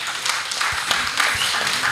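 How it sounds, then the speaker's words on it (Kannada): A seated audience at a newspaper's first anniversary celebration claps loudly for a guru, a dense, steady wash of many hands lasting the whole stretch without pause. "ಗುರುಗಳಿಗೆ ಮತ್ತೊಮ್ಮೆ ಜೋರಾಗಿ ಚಪ್ಪಾಳೆಯನ್ನು ತಟ್ಟಿ."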